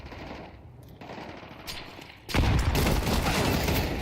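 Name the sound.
gunfire in the video game Counter-Strike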